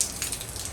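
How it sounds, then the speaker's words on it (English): Steady, non-torrential rain falls during Hurricane Ian in Pasco County, Florida, making a brief, even hiss of drops with no voices. "Rain is still fairly steady, nothing torrential at this point."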